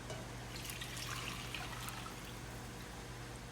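Water trickles and pours back into a cooking pot while making Peruvian arroz con pollo, a steady, fairly quiet stream of liquid with no speech.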